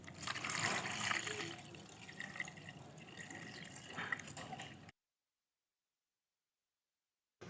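Rinse water poured out of an electric rice cooker pot during a children's cooking class, a steady splashing trickle that thins into drips, then cuts to silence.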